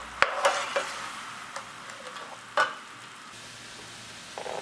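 Prawn dhansak sauce with melted dhal being stirred in a pan over low heat, with a soft continuous simmering hiss and a few sharp scrapes and taps of the spoon on the pan, the loudest near the start and middle, close up, no voices.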